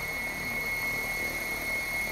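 An Assault 700 RC helicopter flying at about 80% throttle, a steady continuous whine and rotor drone with a strong constant high tone, even and unbroken throughout, with no talking.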